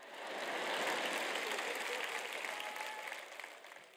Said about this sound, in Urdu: کم از کم یہاں ایک شخص موجود ہے جو تالی بجا رہا ہے